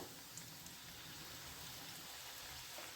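Steady rain falls outside during the frying of onion bhaji, heard as a soft, continuous hiss with faint patter throughout and no voices.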